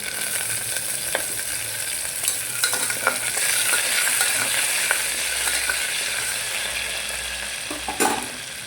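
Green chilies fry in a hot pan for a mung bean curry, giving a steady, moderate sizzle broken by occasional scraping and clicking stir strokes, with no talking.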